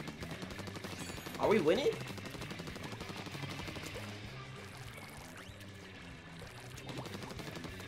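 Small pellet gun firing in Splatoon 2, a brief burst of rapid shots over busy game sounds and music, with a player's voice speaking briefly.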